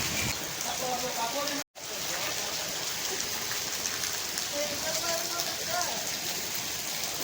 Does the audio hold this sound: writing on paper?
no